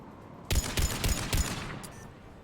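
Anti-aircraft guns fire in Mass Effect 3, four loud, evenly spaced heavy booming bursts over a steady background roar, then fading with a brief faint crack near the end.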